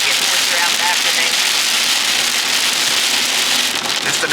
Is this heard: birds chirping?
no